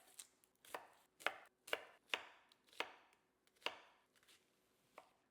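A knife rough-chops a yellow onion on a cutting board, about a dozen sharp thuds at an uneven, relaxed pace, close and fairly quiet.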